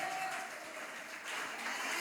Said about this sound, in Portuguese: Aplaude a Jesus bem forte.